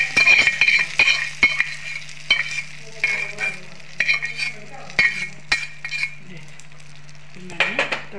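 Tempering spices sizzle in hot oil for a peanut chutney tadka, loud and close, with a steady frying hiss, sharp metal clinks of a spoon stirring against the pan, and a low background hum.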